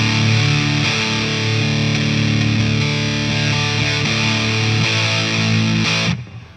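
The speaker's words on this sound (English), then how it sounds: "we got a lot of dense distortion here" Thick, saturated guitar distortion from a Marshall DSL overdrive pedal rings out loud and sustained for several seconds, dense and continuous, before cutting off abruptly near the end.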